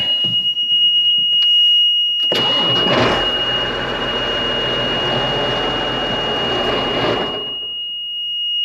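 A Case IH Magnum 7250 tractor, tuned up to 300 hp, cranks briefly and then fires, its diesel engine running loud and steady for several seconds before cutting off abruptly. A faint high electronic tone sounds throughout.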